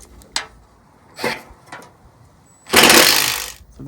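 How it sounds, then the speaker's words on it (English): A power drill driving screws into a hardtop gazebo frame during assembly, with a few short clicks and bursts, then one longer loud whirring run near the end, close up with no talk. "Get my other drill."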